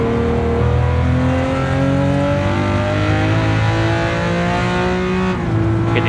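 A Lamborghini Countach 500S on a racing circuit revs hard through downshifts and upshifts, its loud, close engine note stepping in pitch with each gear change and a short dip between shifts.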